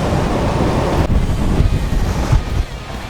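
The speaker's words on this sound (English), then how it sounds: "Man, that wind is not playing around." Strong winter blizzard wind roars against the microphone in minus-13-degree cold, loud and buffeting with steady rumbling gusts and no voices.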